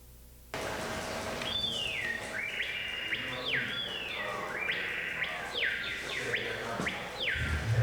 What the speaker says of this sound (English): Uirapuru is the name of a real Amazonian bird,